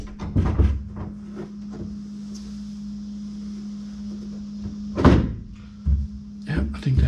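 A DIY fiberglass tonneau cover thumps and knocks as it is swung open, with a couple of clunks over a steady low hum and someone speaking briefly.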